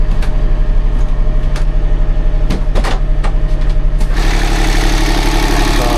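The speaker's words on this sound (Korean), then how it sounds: "여기 엔진이 돌아가고 있고요." A boat engine with a punctured, shaking exhaust pipe runs loud and steady close by, with a few sharp knocks and a brighter rush of noise near the end.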